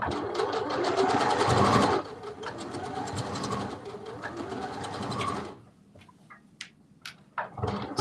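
A sewing machine stitches fabric for a Simplicity 9648 sewing pattern, running loud and steady for about two seconds, then continuing in a second sustained run before stopping, followed by a few soft clicks and bumps near the end.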